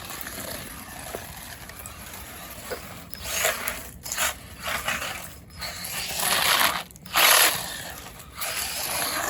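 A Hosim 2845 1/16-scale brushless 4x4 RC car driving outdoors at night. Whirring motor bursts and gritty tire noise rise and fall in quick surges, close by, with brief gaps between runs.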